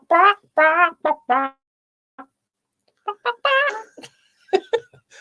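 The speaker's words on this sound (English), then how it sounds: "the chickens." Chickens cluck in short, close, clear bursts with pauses between, then a quicker run of clucks and squawks near the end.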